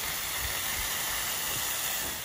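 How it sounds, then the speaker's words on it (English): A Cuban sandwich with orange American cheese sizzles on a Lifesmart electric griddle, giving off a continuous, even, close-up hiss with no talking. "y'all listen to that sizzle for 1 second"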